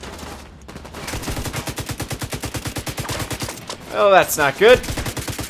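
Rapid automatic gunfire from a firefight in The Division 2 video game, a steady stream of shots over about four seconds, with someone talking briefly and louder bursts near the end.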